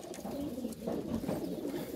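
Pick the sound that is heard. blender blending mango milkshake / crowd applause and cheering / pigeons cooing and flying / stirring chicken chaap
pigeons cooing and flying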